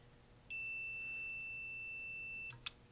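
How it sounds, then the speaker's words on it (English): A multimeter continuity test gives a single steady electronic beep that holds for about two seconds, thin and clear against a quiet background, followed by a small click. "if I cross these, you'll see that it shows short, and it will it'll beep at you"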